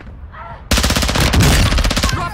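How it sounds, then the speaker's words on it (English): Sustained automatic gunfire in the Call of Duty Warzone video game, loud and close, with rapid regular shots starting abruptly after a brief quiet moment and continuing to the end. "Watch your fire. Somebody's sniping at me."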